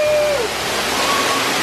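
Waterfall inside a zoo building, a steady close rushing hiss of falling water filling the space evenly, with a faint whistling tone briefly heard over it and no speech.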